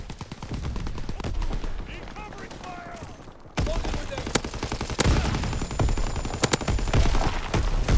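Gunfire crackles through a WW2 shooter match, scattered shots at first, then a louder, denser barrage of bursts and single cracks after a few seconds, with players talking over it.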